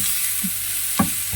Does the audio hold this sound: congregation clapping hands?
no